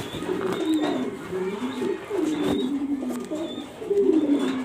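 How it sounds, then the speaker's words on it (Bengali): Female racing pigeon cooing up close, repeated low throaty rolling coos in a loose rhythm of several phrases, with faint chirps in the background. "এটা মাদি কবুতর রেসার মাক্সি মাদি কবুতরটা দেখাচ্ছি আপনাদেরকে।"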